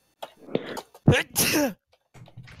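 A person sneezes once, a sharp close burst after a short breathy intake, with faint murmuring voices before and after.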